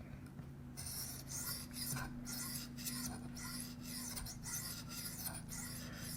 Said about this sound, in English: So I'm going to continue to do that until I can feel a burr on this side of the knife.